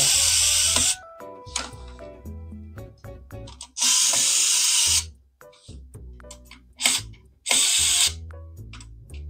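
Screws being driven into a motherboard during assembly of a Ryzen 5 8600G PC on an Asrock A620M HDV M.2 board, heard as repeated bursts of ratcheting and whirring from a driver, close and distinct, with clicks and handling noise between them.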